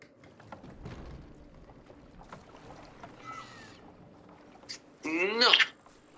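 A boat in the video game Split Fiction is shoved out and paddled, with soft scattered water and wood knocks before a louder splashing burst near the end, while a voice chirps faintly in between.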